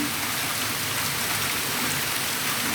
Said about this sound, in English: It's raining. Don't know if you guys can see the rain properly, but my wash day went horrible wrong.